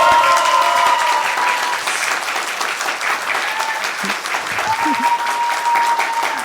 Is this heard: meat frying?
no